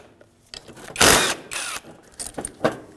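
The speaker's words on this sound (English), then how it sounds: "With a 14mm socket, remove these 2 bolts." Bolts on a 2014-2019 Toyota Corolla rear caliper bracket are loosened with a 14mm socket on a workbench, giving a few loud bursts of ratcheting and metal clicking separated by short quiet gaps.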